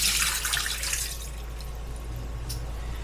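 Soaking water drains from cut potatoes for fries, a short watery pour that splashes and then settles into a faint trickle over a low steady hum.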